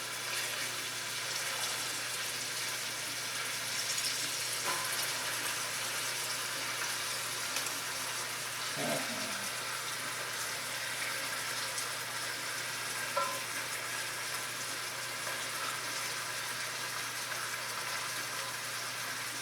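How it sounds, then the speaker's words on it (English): Onions and garlic frying in a hot pan for a chuck roast in red sauce, a faint, steady hiss of sizzling that runs the whole time with a couple of brief clinks and scrapes. "that garlic hitting the bottom of that pan"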